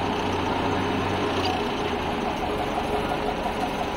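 A rebuilt 1953 Willys M38A1 jeep with a 2200cc engine idles. A quiet, steady, low rumble runs evenly throughout with no revving.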